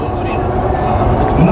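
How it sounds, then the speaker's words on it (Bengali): Low, steady rumble of a Dubai metro train running, heard from inside the carriage as a continuous, loud drone with a faint rising tone near the end and a voice speaking over it. "আবারও ট্রেন ছেড়ে দিছে"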